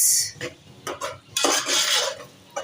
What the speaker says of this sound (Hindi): इन तमाम मसालों को हम कर लेंगे जी मिक्स